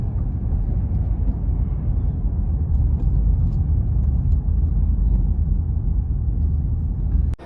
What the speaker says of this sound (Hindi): इतनी ज़्यादा ट्रैफिक है यहाँ पे